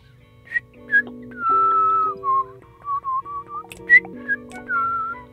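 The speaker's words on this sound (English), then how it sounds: "I have 4 minutes of free whistling." A person whistles a bright melody alone, mixing short chirpy notes with longer held tones, clear and close.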